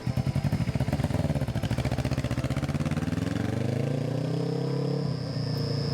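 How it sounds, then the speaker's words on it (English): A Suzuki GS500F motorcycle engine fires up and runs, starting with a fast, even pulsing beat that smooths into a steady idle as the pitch shifts, heard nearby and alone. "The bike was started up to make sure everything was running properly"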